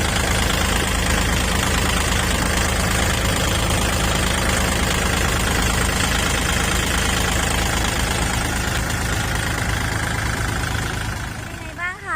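A Kubota L4018 DT 40 hp tractor engine idles steadily and loudly close by, a continuous low rumble with faint knocking that fades at the very end, while someone talks over it.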